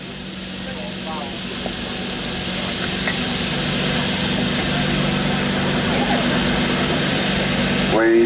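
A pulling tractor at the Great Dorset Steam Fair spins its wheels on wet ground, its engine roaring loud and steadily building in intensity, with a voice talking over it.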